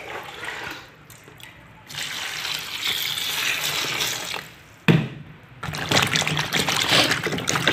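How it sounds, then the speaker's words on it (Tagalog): Okra is washed under a running kitchen tap, with water splashing and gushing in uneven bursts that stop briefly, then restart loudly, close by and with no talking. "So ito po yung okra nating hugasan."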